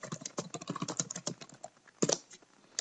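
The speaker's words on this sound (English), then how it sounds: "And you can type in your message there." Keys clatter on a computer keyboard while an email reply is typed, a steady run of close, light clicks with a short burst of louder strokes near the end and no voices.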